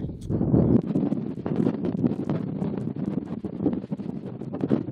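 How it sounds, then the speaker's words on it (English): Strong wind buffets the microphone in heavy, rumbling gusts on the Thames shore at St. Mary Hoo, a continuous low roar that rises and falls without letting up. "It's incredibly windy out"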